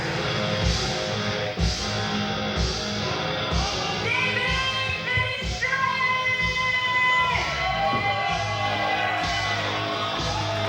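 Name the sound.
wrestling crowd at UCW-Zero event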